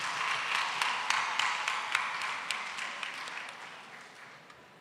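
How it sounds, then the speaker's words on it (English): An audience at a business talk claps in a round of applause that starts fairly loud and slowly fades over a few seconds. "I want to just give an extra round of applause for Chagit"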